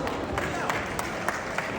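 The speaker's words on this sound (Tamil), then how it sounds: "நல்ல ஒரு பலமான கைத்தட்டல் கொடுக்கலாம்" An audience at a cooking competition in Dubai breaks into steady applause, a dense wash of clapping with a few sharper claps standing out, fairly quiet and continuous.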